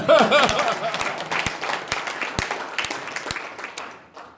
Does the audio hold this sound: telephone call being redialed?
no